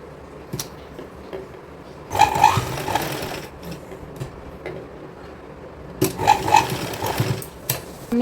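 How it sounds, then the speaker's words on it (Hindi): A sewing machine stitches a small kurti dori in two short bursts of close, rattling mechanical whirring, separated by a quieter pause with faint handling sounds. "यहाँ पे हम सिलाई लगाएंगे।"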